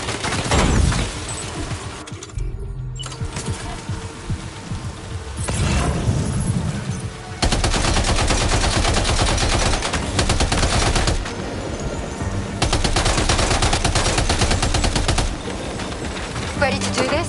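Sustained automatic gunfire in the video game Death Stranding 2, loud and dense bursts pausing briefly between volleys, with a voice speaking underneath.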